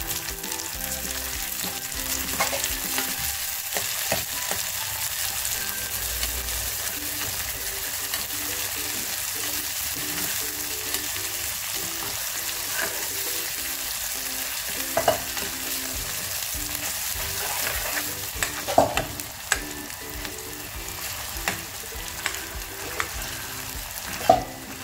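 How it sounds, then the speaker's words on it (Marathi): Onion and tomato sizzle in well-heated oil for a village-style mutton masala, a steady close hiss with soft stirring scrapes and a few sharper clinks toward the end. "आणि आईने तेल मस्त कडकडून तापून घेतले आणि त्यात कांदा टाकला"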